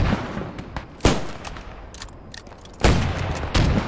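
Machine gun fire in the World War II shooter Squad 44, loud close bursts cracking out at irregular intervals over a rumbling battlefield background.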